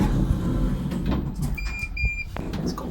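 Doors of a modernised Otis lift in Tunbridge Wells slide open with a rumbling mechanical whir, set against a steady low hum, with short chime-like tones partway through.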